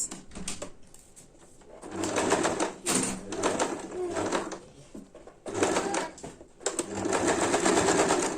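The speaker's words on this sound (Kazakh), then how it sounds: "Осылайынан жақсылап тігіп аламыз." A sewing machine stitches a lined turban in loud, close runs of rapid needle chatter, broken by brief pauses between bursts.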